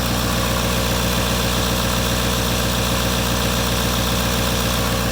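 An LML Duramax diesel engine idles at 900 RPM, a loud, steady, close knocking rumble with an even pulsing beat throughout.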